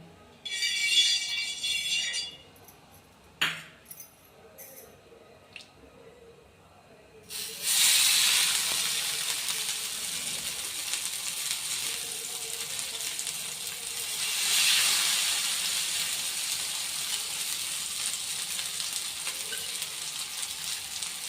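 Masala-coated fish hitting hot oil on a heated tawa, a loud, steady broadband sizzle that surges after a few quieter clinks and stays close and continuous, swelling briefly midway.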